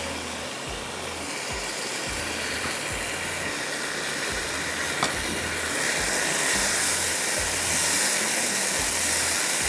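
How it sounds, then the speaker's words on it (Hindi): Onions fry in a pan for cholia pulao, giving a loud, continuous hiss with a low pulsing hum underneath. No one speaks. "और इसको आपने भून लेना"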